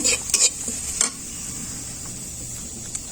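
Onions and green chillies frying in oil in a pan, with a steady bright sizzle throughout and a few sharp utensil clinks and stirring scrapes near the start, then continuous hiss alone.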